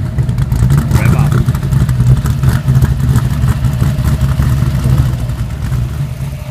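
At an outdoor car show in Australia, engines rumble loudly and continuously close by, a steady mid-pitched roar with revving and clatter, and voices are heard at times.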